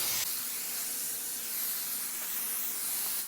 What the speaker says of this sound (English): I'm gonna take the nozzle off and do a general spray